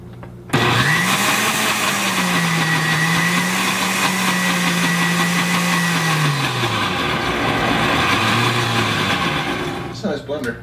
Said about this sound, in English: It's a nice blender.